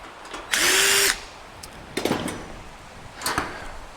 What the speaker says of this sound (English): that hole gets drilled bigger anyway